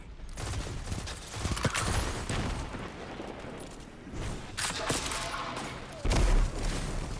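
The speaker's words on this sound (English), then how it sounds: "Using a grenade launcher." A grenade launcher fires in a Destiny 2 Iron Banner match, part of a dense burst of explosive booms and rapid gunfire that rises and falls over several seconds, loud and busy with overlapping blasts.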